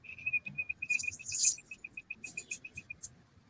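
A finger rubbed quickly imitates a cricket call, producing a regular series of short, high, near chirps in steady rhythm, joined by a few brighter bursts, with no talking.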